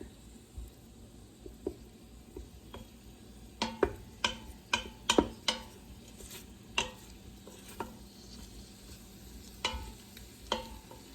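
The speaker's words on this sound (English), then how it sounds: "Butter's melting. And it's beginning to saute now." Carrots sautéing in melted butter in a pan give a faint, soft sizzle under irregular clicks and taps of a spoon stirring, which bunch together midway before thinning out.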